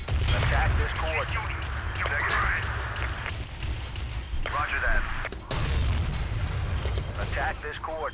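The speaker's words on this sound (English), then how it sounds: "That thing exploded." Heavy booming blasts from the Battlefield 2 video game roll through a noisy battlefield mix, with several deep impacts and rumbling tails, and a loud burst around the middle. A voice is heard talking over it.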